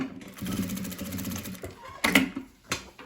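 A sewing machine runs a short backstitch at the end of a seam on fabric, with a close mechanical whirr followed by a few clicks and handling knocks.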